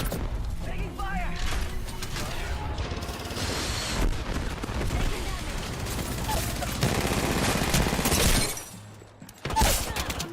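Dense automatic gunfire and bursts in a first-person shooter match, crackling steadily for most of the stretch, close and loud under excited voice chat, then cutting out briefly before another burst near the end.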